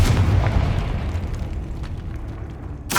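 Confringo spell blast in Hogwarts Legacy, a loud booming explosion at the start that rolls off into a rumbling decay, followed by a sharp burst right at the end.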